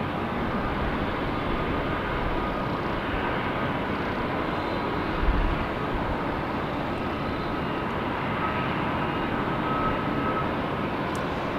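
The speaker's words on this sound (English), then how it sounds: "Here comes our next Southwest Airlines." A Southwest Airlines airliner arriving at Nashville International Airport gives a steady, broad jet roar that holds fairly constant throughout, heard from a spotting position with no one talking.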